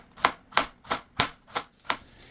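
A knife slices through cabbage on a cutting board in six evenly spaced, crisp strokes about a third of a second apart, each a close, sharp crunch that fades quickly.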